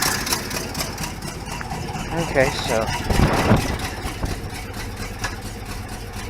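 An engine with exhaust leaks and missing exhaust manifold bolts idles with a rough, ticking, uneven rumble while a person briefly speaks over it.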